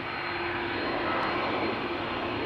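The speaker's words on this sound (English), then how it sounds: "The engines of another A330 coming this way." An Airbus A330 approaches at Amsterdam Schiphol Airport, its jet engines a loud, steady roar that builds slightly and holds throughout, with no voices over it.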